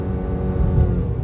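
A Ford Maverick Hybrid pickup truck accelerates, its steady low engine and road drone heard from inside the cabin, rising slightly and holding loud throughout with no talk.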